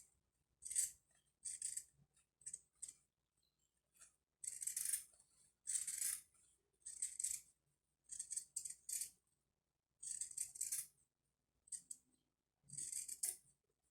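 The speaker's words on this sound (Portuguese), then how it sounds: "E o processo continua de cortar ao redor." Scissors cut around a fabric pattern for a cloth rag doll, making crisp rhythmic snipping bursts in short clusters separated by brief pauses, close and fairly quiet.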